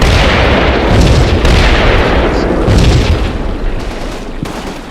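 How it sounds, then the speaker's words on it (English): A 105 mm artillery barrage in the video game Combat Mission: Battle for Normandy lands as a run of loud, heavy, overlapping booms, one after another, fading slightly toward the end. "This 105 barrage."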